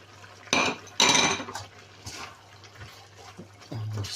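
Chopped celery is stirred into a dish, with a few close scraping and clinking bursts of utensil against bowl, separated by quiet pauses.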